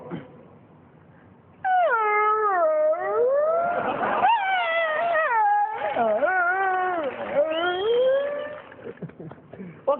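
A human voice imitates a hungry dog, giving long wavering whines that rise into howls, loud and close, with a short pause in the middle.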